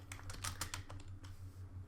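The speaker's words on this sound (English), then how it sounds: "you just click in there and start typing" Fingers tap quickly on a computer keyboard, a run of irregular, close clicks with a faint electrical hum underneath and no voices.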